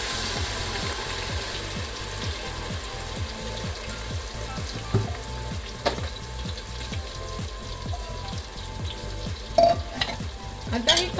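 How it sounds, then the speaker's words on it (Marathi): Onion and tomato paste frying in a pan, sizzling steadily while a spoon scrapes and stirs in a quick regular rhythm, close and fairly loud with no talking. "आता ही कांदा टोमॅटोची जी पेस्ट आहे ती छानपैकी 5 ते 10 मिनिटं छान भाजून घ्यायची।"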